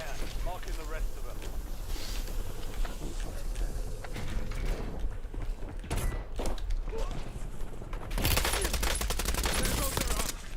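Sustained automatic gunfire in Black Ops 7, dense rapid bursts with mechanical weapon clatter, loud and close, swelling in intensity near the end while in-game voices talk over it.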